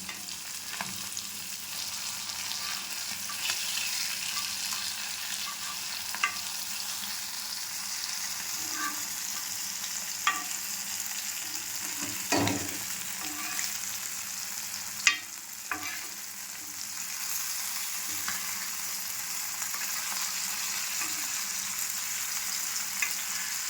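Anchovies (nethili fish) fry in hot oil in a pan, giving a steady, faint sizzle with occasional soft clicks and scrapes as they are turned.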